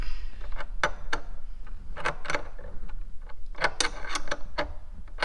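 A ratchet wrench tightens a Delkevic exhaust on a Kawasaki Vulcan S motorcycle, making a close, irregular series of sharp metallic clicks and ticks with no talking.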